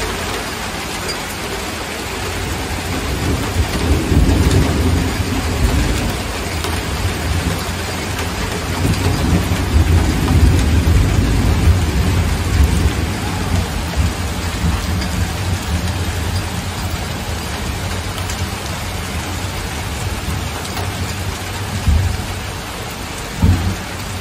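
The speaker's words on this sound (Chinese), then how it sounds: "哇，终于下雨了，终于下雨了" Heavy rain pours steadily for a long stretch with low thunder rumbling through it, a dense, even roar heard from a home during a storm that breaks a two-week dry spell.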